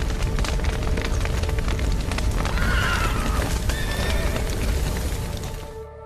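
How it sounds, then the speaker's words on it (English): Horses whinny and gallop amid a burning, collapsing building in the video game The Witcher 3, the hooves pounding steadily under loud crackling fire and rumble as a shrill neigh rises midway. "The horses!"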